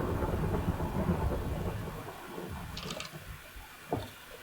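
Rumbling thunderstorm in the game Minecraft, a loud, continuous low roar of thunder and rain that swells and fades, with a brief sharper crack near the end.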